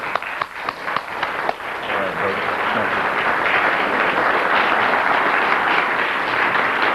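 An audience welcoming a featured speaker with sustained, loud applause: a few sharp individual claps at first, swelling into dense, steady clapping from a large crowd.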